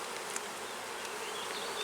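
Honey bees buzz steadily and densely right at an open hive, a continuous close swarm drone at even loudness with no talking.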